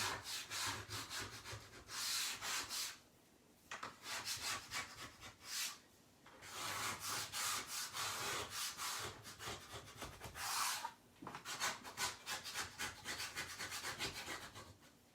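Dried chalk paste being rubbed off a surface, a rapid run of dry scratchy rubbing strokes in bursts with short pauses, close and fairly quiet.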